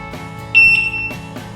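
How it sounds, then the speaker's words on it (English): A Begode RS electric unicycle gives a short, loud, high electronic beep at power on, a single clear tone lasting about half a second amid a faint background hum. "On that 5th loud beep, that is how you know the wheel is unlocked."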